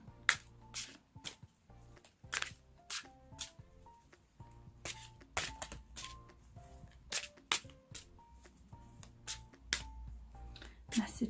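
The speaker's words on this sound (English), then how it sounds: "So I'm just going to shuffle the cards now." Tarot cards shuffled by hand in short bursts of crisp riffling and slapping, recorded close and quiet, with faint tonal background sounds between the shuffles.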